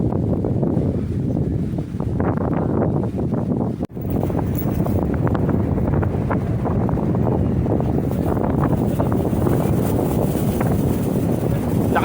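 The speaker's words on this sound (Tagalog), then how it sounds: "Sobrang lakas ang hangin" Strong wind at a beach resort in Ternate, Cavite roars continuously across the microphone, a loud, heavy rumble that barely lets up, with a brief dip partway through.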